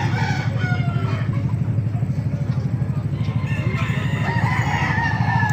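Lemon Sweater gamefowl roosters at an outdoor market in Baliuag crow loudly and repeatedly among clucking fowl, with background chatter and a passing motorcycle.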